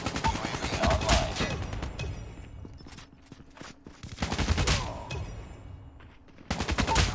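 KN44 rifle gunfire in Call of Duty Mobile, rapid automatic bursts in close succession with short pauses between strings of shots, loud and near, with a few faint game sounds in the gaps.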